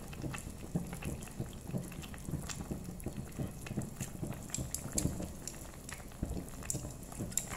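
A pot of Vietnamese malabar spinach soup with shrimp and pork bubbles steadily on the stove, a dense, continuous crackle of small bursting bubbles close by, with no one talking.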